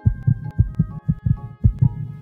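Heartbeat sound effect: a steady run of paired low thumps, lub-dub pulses repeating about four times, close and clear with a faint hum beneath and no voices.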